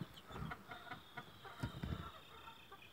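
Older chicks in a dusty barn cheep and cluck in scattered bursts, soft and close, with rustling and shuffling between calls.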